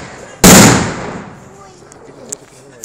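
A single sharp, loud New Year's Eve firework blast in Bratislava cracks close by and rolls off into a decaying rumble, followed by a few faint, distant pops.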